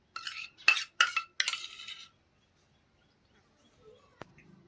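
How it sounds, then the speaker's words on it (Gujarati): Metal spoon scraping and tapping against a mixing bowl while soft, semi-solid ghee is scooped in for chocolate nankhatai, several quick clinks and scrapes in the first two seconds, then near silence with a faint later tap. "તો હવે આપણે એક મિક્સિંગ બાઉલ લઈશું અને તેમાં ઘી લઈશું।"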